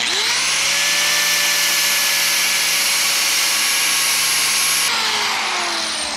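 A grinding machine runs continuously at high speed with a loud, steady whine and dense tonal hum, shifting pitch slightly near the end as the load changes, close and alone.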